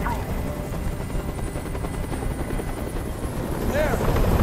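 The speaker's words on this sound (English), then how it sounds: "I can't stand that noise anymore! Tell that helicopter to get out of here!" A helicopter's rotor in the video game Detroit: Become Human thumps and whines continuously at close range, hovering, loud and steady throughout, with a faint swooping tone near the end.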